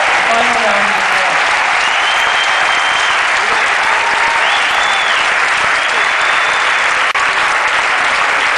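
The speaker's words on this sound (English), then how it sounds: "Give yourselves a final round of applause." A graduating class of 2009 at a commencement ceremony bursts into loud, sustained applause, a thick continuous roar of clapping with faint cheering voices woven through.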